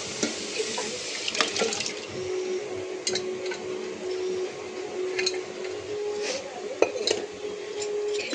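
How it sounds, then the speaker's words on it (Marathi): Hot water pours steadily into a pot of cooked mutton curry at a low, even level, with a few faint clinks of utensils. "हे पाणी गरम करून ह्याच्यात टाकते."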